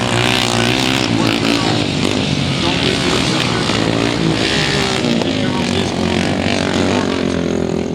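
Classic Rudge motorcycles race on a grass track, their engines droning loud and steady throughout with a layered, rasping roar of several machines at once.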